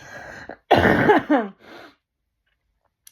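A harsh cough up close: one loud raspy burst, a shorter second hack, then a faint trailing breath before silence.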